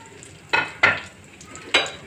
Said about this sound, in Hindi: थोड़ा सा कड़ी पत्ते को हमें भून लेना है।